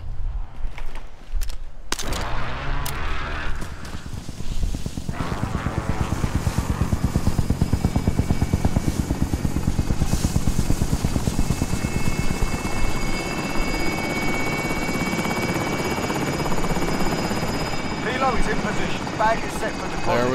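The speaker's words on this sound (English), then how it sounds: "Helo is inbound." A helicopter in Call of Duty: Modern Warfare approaches with a loud, dense rotor thump that builds and holds steady, with a few sharp game noises early on and players talking over it.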